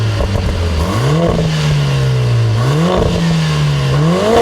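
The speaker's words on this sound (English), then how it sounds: "You can hear a little bit of pops in the turbo flutter." A Lotus Emira's turbocharged four-cylinder engine revs up and eases back several times, loud and close, its pitch climbing and falling in repeated waves with faint fluttery pops between pulls.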